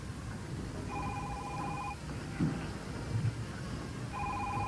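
An old-style telephone rings twice with a pause between, its trilling bell fairly soft over a steady background rumble.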